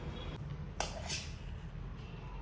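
A spoon clinks faintly against a plate while soya rice is served, with one short, sharp metallic tap standing out from quiet background hiss.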